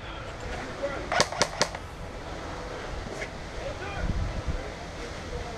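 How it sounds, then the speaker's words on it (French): Airsoft guns fire in an outdoor zombie-mode game: three sharp snaps in quick succession, then fainter scattered pops under wind noise, with people talking faintly. "Allez, on tire."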